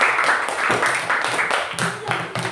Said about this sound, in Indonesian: Oke, tepuk tangan buat kalian.